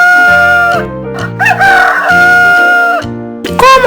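A rooster crows loudly at close range, a long, full cock-a-doodle-doo followed by a second, shorter burst of crowing.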